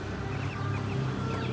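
A grey crossbred chicken, a cross of BK and Trathmon stock, clucks softly and repeatedly in a pen, close by, over a steady low background hum.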